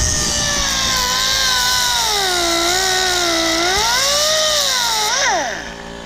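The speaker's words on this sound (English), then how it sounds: "over here double blading it with the angle grinder" An angle grinder cuts into a steel power steering bracket being modified on a Nissan 240SX, giving a loud continuous whine whose pitch dips and rises as the blade bites, then winds down at the end.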